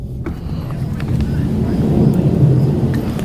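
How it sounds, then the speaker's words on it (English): Loud low roar of airplanes flying over at an air show, a broad rumble swelling steadily and staying heavy throughout, heard outdoors near a Nissan 370Z being worked on. "we hear some loud ass planes"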